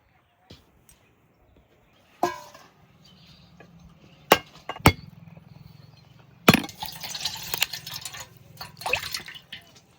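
Freshly cut river prawns are rinsed by hand in water at a village home, with sparse splashes and sloshes, a few sharp knocks of a pot or bowl, and a busier stretch of rinsing near the end.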